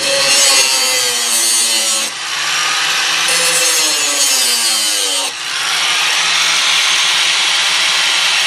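Grinding down a strut bolt on a 2005 Toyota Highlander with 174K miles during rear strut replacement: a loud, continuous, harsh whine that wavers in pitch and briefly dips twice as the tool bears on the metal.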